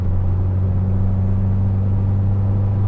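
A car being driven on a cold morning: steady low engine rumble with a constant hum from inside the cabin, even and unbroken throughout, no talking.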